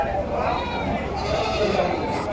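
Goats bleat repeatedly at a livestock market in Karangpucung, where young male goats for fattening are sold, their calls rising over steady crowd chatter and voices talking nearby.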